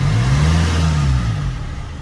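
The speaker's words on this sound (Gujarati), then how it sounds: "આનું ડીઝલ એન્જિનનું અવાજ જોઈ શકો" A 2013 Maruti Suzuki Ritz diesel engine runs with a close, loud, low hum, rising slightly and then easing off over two seconds, with no speech.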